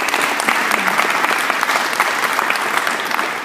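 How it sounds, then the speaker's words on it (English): Steady applause from a crowd at a ribbon-cutting ceremony, dense and continuous clapping throughout, fairly loud and close. "why don't we give a round of applause to everybody for that."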